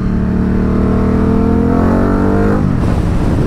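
A Ducati Diavel 1260 motorcycle engine revs loud and close on an empty road, its pitch climbing steadily, then dropping sharply near the end.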